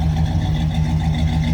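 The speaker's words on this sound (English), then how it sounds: "Got a little rumble coming out of this 455. Listen to that." A 1970 Pontiac Bonneville's 455 V8 idles with a steady, deep low rumble, close and even throughout with no talk over it.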